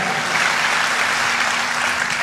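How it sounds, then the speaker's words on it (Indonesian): Congregation applause at a Christmas church service, a loud, dense burst of many hands clapping continuously and evenly close by. "Tepuk tangannya yang paling meriah buat Raja di atas segala raja"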